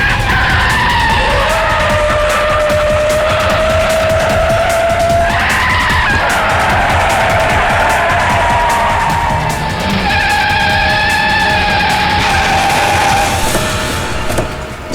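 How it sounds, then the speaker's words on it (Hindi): A car in a police drama scene turns around hard, its tires squealing in long, loud, wavering screeches over a steady engine roar for about fifteen seconds. "गाड़ी घुमाओ पंकज, जल्दी"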